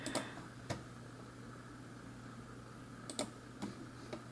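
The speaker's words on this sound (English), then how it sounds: "Let's pull something up on the computer here where I can just go type away." A Commander plunger-style gaming keyboard is typed on at a computer, giving a few faint, scattered keystroke clicks in two loose clusters over a low steady hum.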